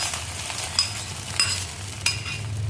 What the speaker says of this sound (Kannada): ಈಗ ಆ ಸಕ್ಕರೆ ಹಾಕಿ ಒಂದು ಸರಿ ಕಲಿಸ್ಕೋಬೇಕು.